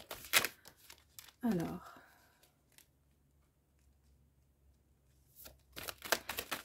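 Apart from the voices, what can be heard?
handling and drawing oracle cards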